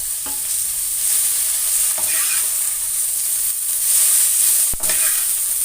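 Ridge gourd peel fries in oil in a pan, a continuous close sizzle broken by a few stirring scrapes and one sharp utensil knock near the end.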